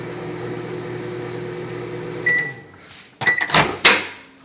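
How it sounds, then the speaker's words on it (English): Microwave oven humming steadily with an Xbox 360 game disc inside, then the hum cuts off and sharp crackling, sparking bursts erupt from the disc in several loud snaps near the end. "I'm microwaving this little disc."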